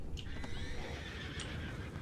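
A horse whinnies loudly over a bed of hoof clatter and background rumble in the video game Red Dead Redemption 2, with a second, shorter neigh following.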